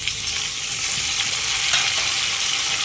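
Grated onion, ginger, garlic and tomato paste hit hot oil for dhokar dalna, giving a loud, steady, close-up hiss and crackle of frying that runs unbroken throughout.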